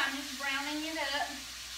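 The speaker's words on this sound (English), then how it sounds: "Got some ground beef. I'm just browning it up." Ground beef sizzles steadily as it browns in a pan for a beef chimichanga, with a soft scrape of stirring running through the continuous frying hiss.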